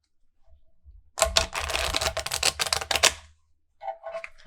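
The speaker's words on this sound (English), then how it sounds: "let's shuffle the cards" A deck of Art Nouveau Gold edition tarot cards shuffled close up, giving a dense rapid riffling burst lasting about two seconds, followed by a few brief card taps; no talking.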